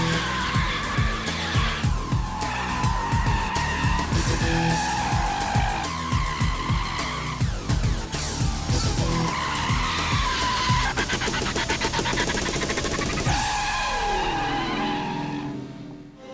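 A BMW 1M Coupe's tires screech in long sliding squeals over a loud, steady engine roar, the pitch bending as the rear end drifts, with no voices.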